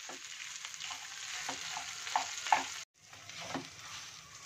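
Grated boiled potatoes fry in desi ghee while a spatula presses and scrapes them against the pan, a quiet steady sizzle with repeated soft scraping strokes and a brief silent break midway.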